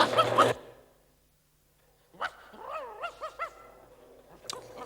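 Pumpy Dog, a cartoon dog, sounds off at night after a loud burst, giving a run of several wavering, whining barks with short gaps between them, fairly near and moderately loud.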